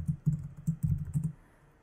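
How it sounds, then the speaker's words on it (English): Keys tapped on a computer keyboard in a short burst of about half a dozen soft, close clicks, then quiet. "You type your name and email address"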